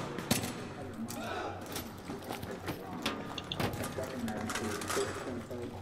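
Rapid gunfire in the video game Battlefield 3 during a co-op mission: sharp repeated shots and bursts crackle throughout, with voices talking over them.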